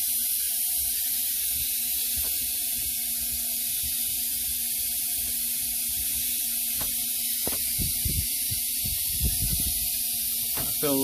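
A continuous loud hiss of compressed air blowing water out through a shower head, with scattered gurgling and knocking underneath that grow busier toward the end.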